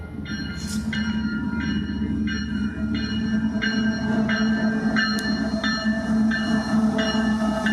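Two trains meet and pass on the rail line, cars clattering past in a steady rhythmic series of rail-joint beats over a continuous low rumble, close and loud throughout.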